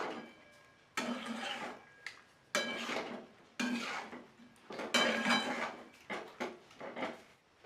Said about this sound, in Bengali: আচারটা আমি একটা পাত্রের মধ্যে বের করে নিয়েছি